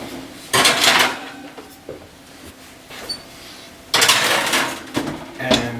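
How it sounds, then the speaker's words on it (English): Baking pans loaded with pretzels slide into an oven in two loud bursts of metallic scraping and rattling, with oven-door clunks and softer knocks in between. "I'm going to go ahead and stick these in the oven now"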